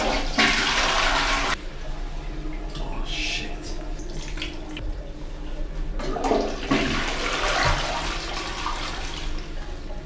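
A toilet flushes loudly in a festival-site toilet, being used to dispose of pizza piece by piece; a strong rushing burst opens, quieter swirling water follows, then a second forceful flush surges near the end.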